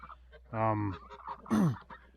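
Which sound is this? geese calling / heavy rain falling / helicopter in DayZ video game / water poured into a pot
geese calling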